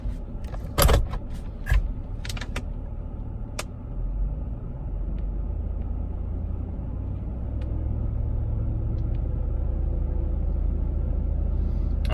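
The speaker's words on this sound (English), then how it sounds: "I'm going to power brake this Yukon and bring the temperature up just a little bit" GMC Yukon engine power braked, a steady low rumble that builds slightly and holds after a few sharp clicks and clunks at the start, heard close with no talking.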